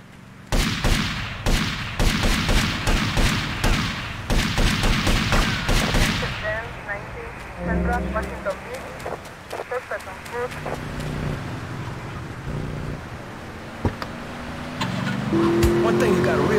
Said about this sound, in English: Local gunshot was a couple of blocks away